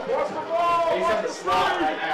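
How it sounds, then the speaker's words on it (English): A football crowd at a high school game between Waskom and EF yells to rally the defense on third down, a dense, continuous roar of many overlapping voices with shouted, sustained tones that swell and surge throughout, fairly loud and close. "The crowd is yelling for the defense."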